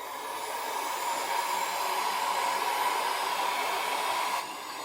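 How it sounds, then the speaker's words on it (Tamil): A Stanley 2000 watt heat gun runs continuously with a steady fan-driven whoosh and airy hiss, unchanging in level for several seconds before it stops, with no voices. "நம்ம இப்போது ஹீட் கன் செக் பண்ணி பார்த்துடலாம்"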